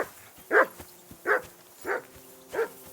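Four distinct barks from a dog in Kingdom Come: Deliverance II, spaced roughly evenly apart, close and clear over a faint steady background.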